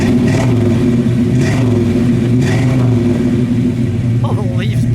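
A 1964 Pontiac GTO with a 389 engine and four-speed revs loudly up close, its steady rumbling idle rising and falling through the clip while people talk over the engine noise.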